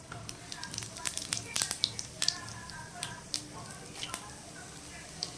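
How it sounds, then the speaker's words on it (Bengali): Bay leaves and whole cumin seeds dropped into hot fish-frying oil for a fish curry, giving a soft crackling sizzle with scattered tiny pops throughout, close but quiet. "মাছের তেলের মধ্যেই আমি এরকম তেজপাতা দিয়ে দিলাম আর সাদা জিরে গোটা ফোড়ন দিয়ে দিলাম"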